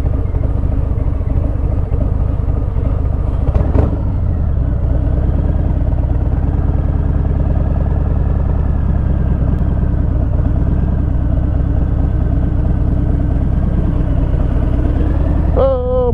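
A 2018 Harley-Davidson Fat Bob FXFB rides through traffic, its engine giving a steady, close, loud rumble throughout, with a brief sharp click near the start and a faint voice under the engine.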